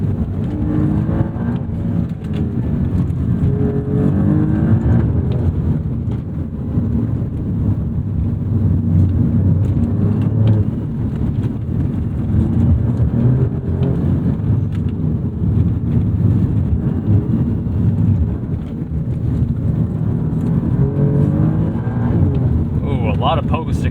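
A 2019 Alfa Romeo Giulia Quadrifoglio on the move, heard from inside the cabin as a steady low engine and road drone with wind rush that stays loud and unbroken throughout.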